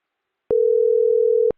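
An outgoing test call on a small business phone system sounds one steady, loud electronic ringing tone lasting about a second. It starts and stops abruptly and stands alone against silence.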